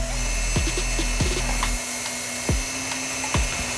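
A power drill spins in short bursts while lapping a worn diesel injector nozzle, with a steady whine that cuts out and restarts several times and clicks between runs, all close and loud.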